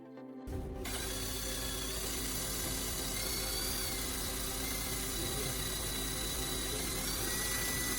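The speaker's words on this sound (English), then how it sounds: "Next, I drill a hole in the center of the charger cover." Power drill boring a hole in the center of a Samsung charger cover, a steady whirring motor drone that starts abruptly after a brief pause and runs continuously at a fairly quiet level.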